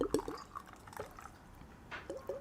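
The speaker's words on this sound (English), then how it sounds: "I'm going to pour it in my coffee." Liquor trickling from a bottle into a coffee cup, a faint, close liquid pour with small splashes and drips over about two and a half seconds, no talking.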